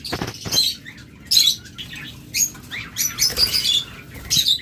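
Caged lovebirds chirp in short, bright bursts over several seconds, with soft rustling and wing flutters between the calls, close and lively.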